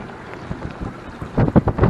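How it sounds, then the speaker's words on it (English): Gusty wind of about 20 knots on a sailboat on the Richelieu River buffets the microphone in rumbling bursts, strongest toward the end, with a steady outdoor whoosh underneath. "We're getting some great, great gusts."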